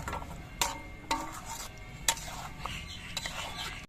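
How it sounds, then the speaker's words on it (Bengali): A spoon stirs dahi katla, a Bengali fish curry in yogurt, in a pan with ghee and garam masala powder, giving soft scraping and a few sharp metallic clinks against the pan over a faint background hiss. "এবার ঘি আর গরম মশলা গুঁড়ো দিয়ে নেড়ে চেড়ে মিশিয়ে নিতে হবে"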